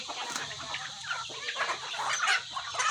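Pet chickens cluck and squawk close by in a busy, overlapping flurry of short calls that grows louder toward the end, with no talk over them.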